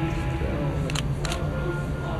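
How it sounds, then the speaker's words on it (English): A camera shutter fires with a slow shutter speed, two distinct clicks spaced a fraction of a second apart, heard over a busy background of ambient noise. "But listen to how slow the shutter speed is."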